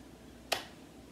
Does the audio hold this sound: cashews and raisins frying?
no